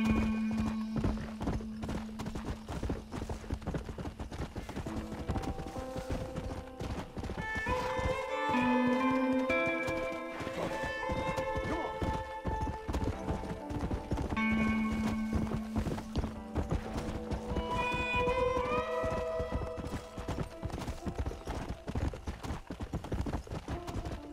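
Steady clip-clop of horse hooves throughout in Red Dead Redemption, close and rhythmic, with a whinny and tonal game music running underneath.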